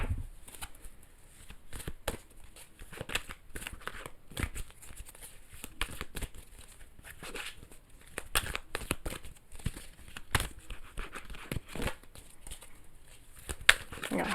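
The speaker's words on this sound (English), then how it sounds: "I got a hard time shuffling." Archetype oracle cards being shuffled by hand in short, uneven bursts of riffling and slapping, close and fairly quiet, with someone talking in between.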